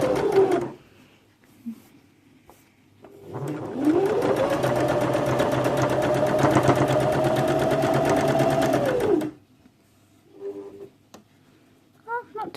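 A sewing machine runs a steady slow stitch through a quilted comforter for about six seconds, starting and stopping cleanly, with quiet pauses and brief soft handling noises on either side.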